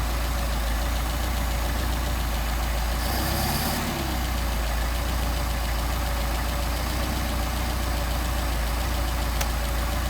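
A Mercedes 190SL engine on Solex carburetors idles steadily and loudly up close, with a constant low rumble and a brief shift in tone partway through.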